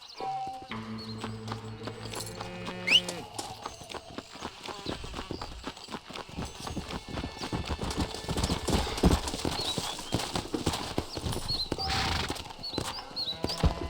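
Horse hooves clip-clop in a steady rhythmic gallop while riding in Red Dead Redemption, moderately loud over a faint musical background, with an early chime and scattered ambient tones.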